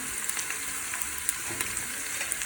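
Onions fry with salt in a pan, giving a steady soft hiss with small sharp crackles and an occasional light scrape, close and fairly quiet, with no talking.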